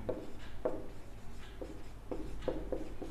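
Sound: writing out a math proof

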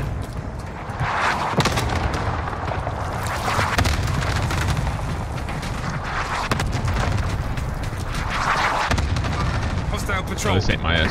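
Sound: cluster strike explosions in video game Call of Duty Rebirth Island

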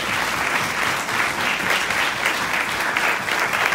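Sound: audience applause

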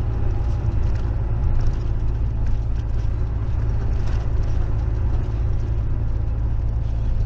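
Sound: truck driving

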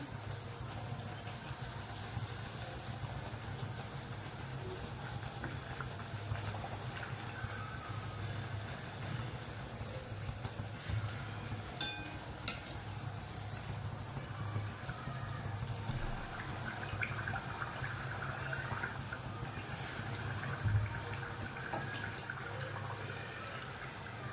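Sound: puris deep-frying in hot oil

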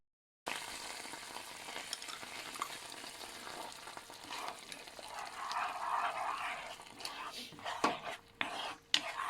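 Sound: coconut cream simmering in a pan until the oil separates

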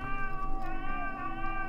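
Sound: cat meowing

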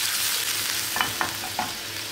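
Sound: tomato sauce cooking in a pan on the stove

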